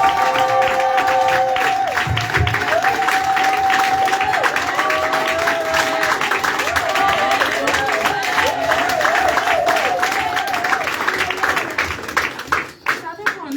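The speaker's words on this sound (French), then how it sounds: "Est-ce que nous pouvons acclamer le roi?" A crowd applauds and cheers for the king, sustained dense clapping throughout with cheers and voices mixed in, fading out toward the end.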